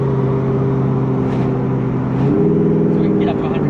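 A Mazda ute's swapped 3UZ V8 engine with a five-speed A650 automatic idles, then its revs rise slowly and steadily, with a voice speaking over the motor.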